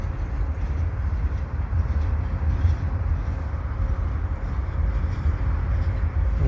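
A long CP eastbound mixed freight train with stack cars rolls past at Dorval in winter, a continuous low rumble and rolling wheel noise holding steady and close throughout with no voices.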